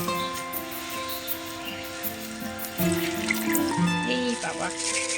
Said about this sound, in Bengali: জল সমেত ঢেলে দাও।